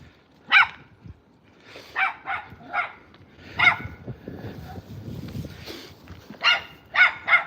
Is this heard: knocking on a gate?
no